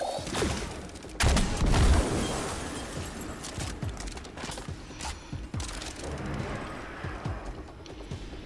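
Bursts of rapid gunfire in the video game Destiny 2 crackle with heavy booms and mechanical clatter, rising and falling in intensity throughout, with no one talking.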